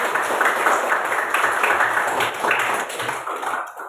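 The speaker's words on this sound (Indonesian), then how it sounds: "tepuk tangan buat Yusron" A classroom of students claps for a classmate, a steady dense patter of many hands that holds for several seconds before thinning out at the end.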